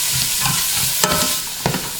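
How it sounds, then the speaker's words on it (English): Vegetables sautéing in a pot for creamy chicken and wild rice soup, a loud close sizzle with repeated scraping stirs of a spoon against the pot, no voices. "now I'm going to saute the vegetables until they are nice and tender"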